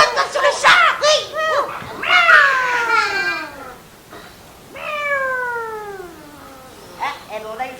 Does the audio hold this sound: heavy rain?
no